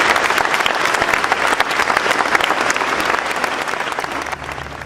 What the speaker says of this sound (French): Je vous demande de les applaudir très amicalement et très chaleureusement.